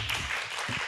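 Audience applause at a retirement-planning concert talk, a short burst of dense clapping that carries all the way through.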